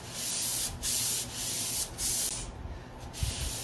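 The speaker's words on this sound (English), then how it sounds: "I'm going to go ahead and just give it a light sanding." Repeated broad, airy scrubbing strokes of an abrasive pad, each lasting about half a second, lightly sanding steadily across a surface at close range with no talking.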